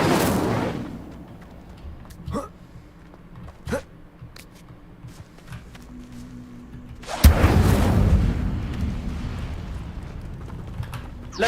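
The Incendio fire spell cast in Hogwarts Legacy bursts out as a loud whooshing roar midway, preceded by quiet ambience with a few sharp ticks and clicks, then a sustained rumbling flame wash.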